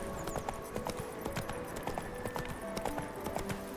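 A horse galloping in a video game, its hooves clip-clopping in a steady, quick rhythm over a continuous outdoor ambience, close and moderately loud, with no talk.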